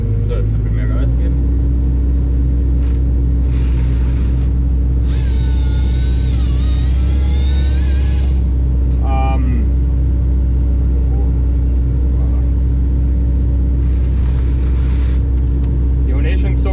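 A Manta 300 forestry machine working thinning timber in the forest runs with a loud, constant low engine drone and whine, with intermittent higher mechanical tones and a person talking over it.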